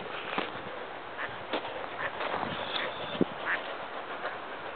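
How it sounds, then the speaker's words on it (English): Ducks quack from a short distance in rough country near a railway track, several scattered nasal calls over a low outdoor background, with a louder quack around the middle. "Some ducks over there quacking."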